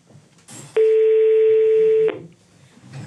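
A telephone number is dialed, leaving a single sustained electronic telephone tone lasting over a second, loud and close, with quiet room sound before and after.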